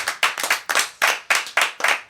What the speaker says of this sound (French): On peut l'applaudir, Madame Cathy, quand même.